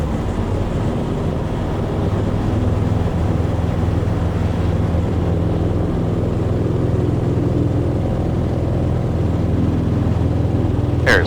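A small airplane rolls down the runway on a second takeoff attempt, its engine a steady, loud, continuous roar with wind rushing past the microphone throughout.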